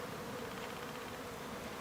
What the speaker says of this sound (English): The bees are going to go right to the queen.